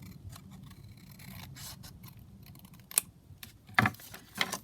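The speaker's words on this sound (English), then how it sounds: "So I'm just going to cut this down here." Scissors trim paper for a handmade junk journal, giving soft close snips with a few sharper cuts near the end, heard alone without talk.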